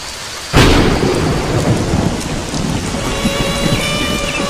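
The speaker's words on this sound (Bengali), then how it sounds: "বৃষ্টির ভাব দেখেছো? মনে তো হয় না যে এত সহজে থামবে।" Heavy rain pours steadily in a cartoon scene, and a sudden loud thunderclap breaks in early and then rumbles off beneath the continuing downpour.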